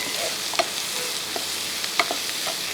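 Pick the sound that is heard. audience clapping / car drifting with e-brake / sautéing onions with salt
sautéing onions with salt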